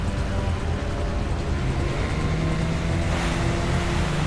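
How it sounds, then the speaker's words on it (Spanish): Jet ski engine on the water in Resident Evil 4, a steady loud rushing drone of motor and spray running continuously without a break. "usamos la llave de la moto acuática"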